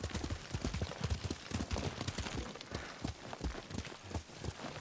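Horse hooves walking in the video game Ghost of Tsushima, a steady, close clip-clop of hoofbeats with no talking over it.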